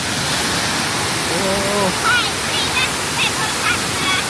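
A natural waterfall in rural Laos gives a steady, broad rushing roar throughout, while birds chirp faintly and a voice makes a brief exclamation over it.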